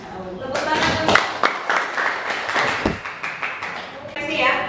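A class audience claps together, a dense run of sharp overlapping hand claps that swells and dips over several seconds, with voices murmuring underneath.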